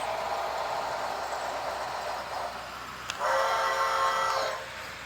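An HO scale model train running on powered track with its onboard sound active, a steady mechanical hum that swells into a louder, brighter stretch of rolling and horn-like tone before easing off.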